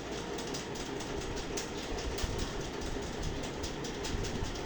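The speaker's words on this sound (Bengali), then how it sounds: "পাইটি রেল লাইন, ট্রেন যাচ্ছে" A train running along a railway line in open countryside, a steady rolling rumble with rhythmic clickety-clack of wheels over rail joints, fairly faint and distant throughout.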